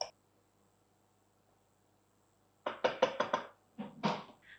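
A lid set onto a pot of carrot rice on the stove: a quick series of about five sharp knocking clatters, then a few softer taps, close and loud after a quiet start.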